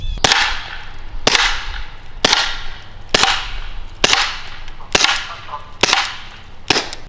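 A SABRE home-defense pepper projectile launcher fires inert training rounds at a tree outdoors: eight sharp, loud cracking shots spaced roughly a second apart, each with a brief ringing tail, and no voices.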